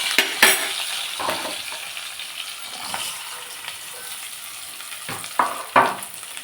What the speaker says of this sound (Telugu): హాయ్ ఫ్రెండ్స్, బంగాళదుంప ఫ్రై చేస్తున్నా.